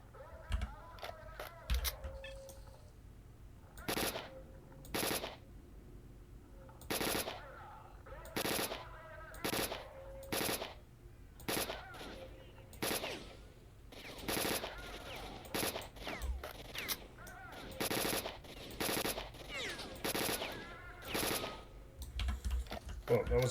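Repeated bursts of automatic gunfire in a STALKER: Shadow of Chernobyl Enhanced Edition firefight, loud volleys spaced every second or two across the whole stretch, with faint background ambience between them.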